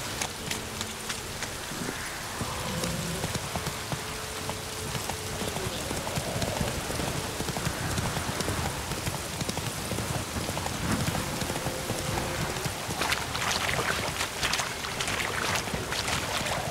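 Horse hooves clip-clop steadily in The Witcher 3, a continuous mid-level trot over a wash of rain-like ambient noise, with no talking.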